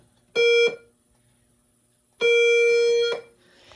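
A Notifier NFS2-640 fire alarm panel sounds two electronic tones, a short one followed after a pause by a longer one, loud and buzzy with a steady pitch, slow temporal pattern at twenty beats per minute.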